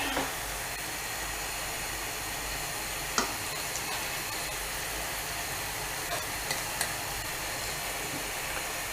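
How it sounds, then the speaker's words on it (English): Steady sizzling hiss of scrambled eggs frying in a pan, constant and close, with a few faint clicks and taps. "It's frying, it's frying, it's frying."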